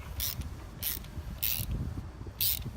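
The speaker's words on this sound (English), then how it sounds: "take our nice handy dandy Milwaukee ratchet and just give it a good tightening" A Milwaukee ratchet tightens a machine screw into a jig, clicking in four short bursts of rapid pawl ratcheting at a steady pace, close and fairly quiet, with no talking.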